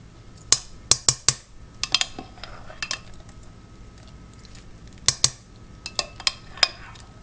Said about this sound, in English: we are going to use the slotted spoon and put it in the stainless steel bowl